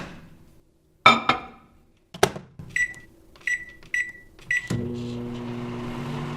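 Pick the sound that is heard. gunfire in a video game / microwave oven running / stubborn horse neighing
microwave oven running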